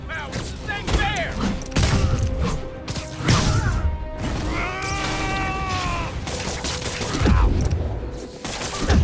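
Gunfire in the Marvel's Spider-Man video game, bursts of shots and crashes scattered among rapid, animated character voices and shouts, with the firing loud in places and sometimes covered by the talk.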